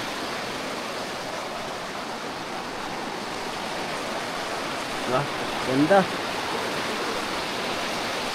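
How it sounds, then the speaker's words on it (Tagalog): A river rushes beneath a hanging bridge at an eco-tourism site in Maria Aurora, Aurora, giving a steady broadband roar throughout, while a voice speaks briefly near the end. "Yung lagasgas ng ilog."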